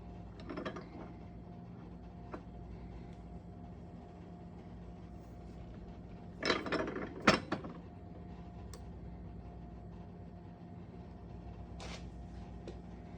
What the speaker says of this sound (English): So we're going to use our arbor press,